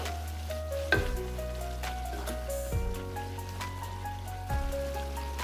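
Papaya flowers with anchovies sizzle steadily in a frying pan as they are stirred, a dense crackling hiss with a few louder scraping stirs at intervals, close and without talk.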